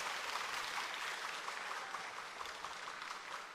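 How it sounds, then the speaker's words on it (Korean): A church congregation claps during a Korean Sunday service, a steady, even round of many hands heard faintly and at a distance throughout. "네, 큰 박수 해주십시오."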